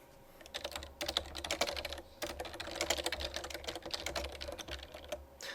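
Typing on a computer keyboard with quick, irregular bursts of key clicks and short pauses, close and fairly quiet.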